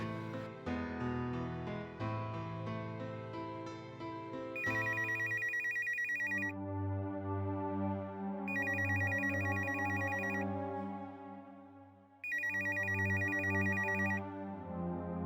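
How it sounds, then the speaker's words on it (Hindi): A telephone rings in three separate bursts of repeated ringing, loud and close over continuous background music. "आप मयंक के घर फोन कर लीजिए"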